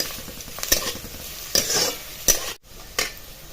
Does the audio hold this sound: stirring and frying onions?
yes